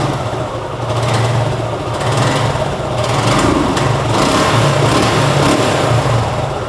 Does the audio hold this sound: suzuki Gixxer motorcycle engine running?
yes